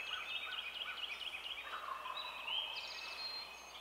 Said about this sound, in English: I got birds all around me gobbling.